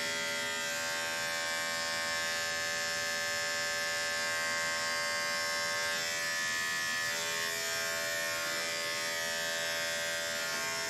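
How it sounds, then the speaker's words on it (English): Electric dog clippers fitted with a 40 blade shave the paw pads of an aggressive dog during grooming, making a loud, steady, close buzzing hum that runs without a break. "40 blade shaving the pads."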